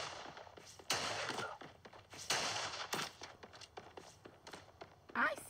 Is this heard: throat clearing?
no